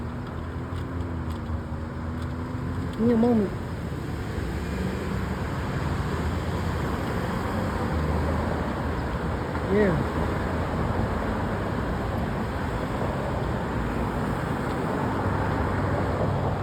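Light weekend road traffic at the Torrance Blvd intersection with Del Amo Blvd and Crenshaw Blvd, a steady low roadway hum of passing cars with a couple of brief horn-like tones, while a person speaks a few words.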